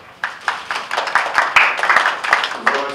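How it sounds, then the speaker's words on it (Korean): An audience at a Korean policy forum on the closure of GM's Gunsan plant claps together in rhythmic, fairly loud applause, steady and close, with no voices over it. "말씀해 주신 우리 장병환 대표께 다시 한번 큰 박수 부탁드립니다."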